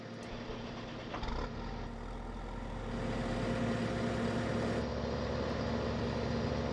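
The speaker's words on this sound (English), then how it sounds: "you will hear the Case 230 because it's got a exhaust on it" Heavy Case 230 tractor engine with exhaust in Farming Simulator 2019, rumbling steadily, its exhaust note growing louder partway through and holding there.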